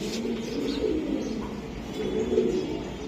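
Giribaz racing pigeons coo softly in a low, continuous murmur at close range, with a steady background hum throughout and faint higher chirps mixed in.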